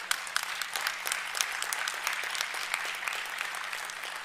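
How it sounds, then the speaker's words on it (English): Audience applause at a school district Board of Education meeting welcoming a new staff member: steady, fairly faint clapping from a small crowd in a room, continuous for several seconds with no talking. "give him a round of applause"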